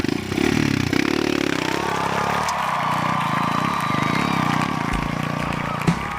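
A motorcycle engine revs and accelerates on a rough, broken mountain road toward Cipanengah, its pitch rising steadily over several seconds with rattling and clatter, close and loud, while people talk nearby.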